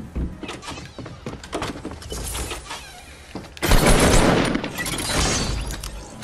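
Gunfire in the video game Fortnite, a loud volley of shots mixed with clattering hits and impacts, building into a dense burst partway through and continuing in rough bursts to the end.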